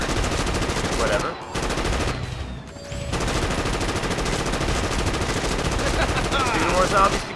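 Rapid gunfire from a zombie-shooting video game, Dead Sky, rattling loudly and almost continuously with a short break near the start and a brief gap before bursts resume, dense and up close.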